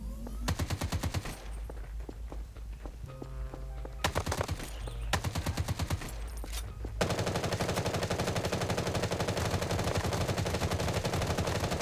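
Bursts of rapid automatic gunfire crackle in the video game Survival Island, then settle into a long, continuous stream of dense shots; loud and close.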